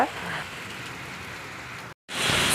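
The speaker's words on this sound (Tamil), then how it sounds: "சரியான மழை பெஞ்சிட்ருக்கு" Heavy rain pours steadily and densely during a downpour at a Ganesh Chaturthi celebration in Chhattisgarh, a continuous close hiss broken by one brief dropout before resuming louder.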